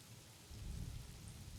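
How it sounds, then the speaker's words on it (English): Steady rain falls outdoors near Lake Coronati in the early morning, a soft constant hiss that swells with a low rumble partway through, with no talking. "Ah, it's raining."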